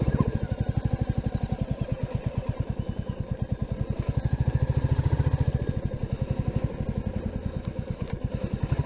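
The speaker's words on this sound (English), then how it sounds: "Loads of bikes here." Motorcycles run at a bike meet, one engine near the front with a fast, even, throbbing idle beat that stays steady and fairly close throughout.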